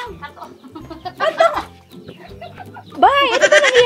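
Rooster crowing at close range, loud harmonic calls near the end with clucking and fowl sounds earlier, while people chat nearby at a farm gathering.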